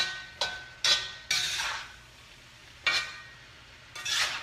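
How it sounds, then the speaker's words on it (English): Onions and vegetables stir-fried in a wok, giving several short bursts of scraping and clinking spatula strokes with a light sizzle between them, close and fairly quiet. "So now I'm going to mix all this together."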